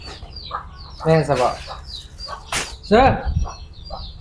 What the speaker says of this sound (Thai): โอ้ไก่หลาย